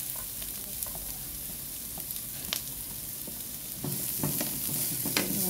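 Garlic sautéing in a pan gives a steady close sizzle with clicks and scrapes of stirring, growing slightly louder and busier toward the end.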